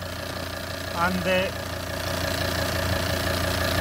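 A Volvo XC90 D5 diesel engine with a stuck swirl flap actuator idles steadily at close range, a low even drone running throughout while someone talks over it.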